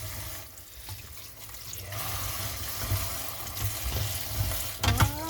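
Malunggay leaves are washed in a bowl of water, with continuous close splashing, swishing and trickling, growing busier toward the end.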